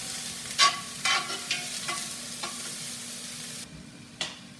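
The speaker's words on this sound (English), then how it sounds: "we're going to add the onions and the garlic, and we're going to saute these until they start to become translucent" Onions and garlic sauté in a pot for a beef stew, with a soft steady sizzle and a few sharp spoon scrapes and stirring knocks near at hand, then the frying quiets toward the end.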